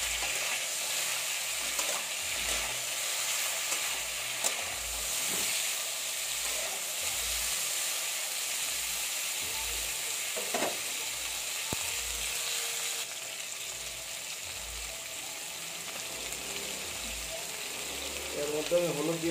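Green beans and potatoes frying in a pan for a Bengali lentil and cauliflower dish, with a steady sizzle and hiss and repeated soft scraping stirs throughout, fairly close.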